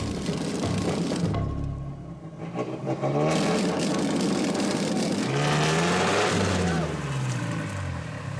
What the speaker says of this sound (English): this Jeep, albeit a vehicle in poor condition that struggles to overcome obstacles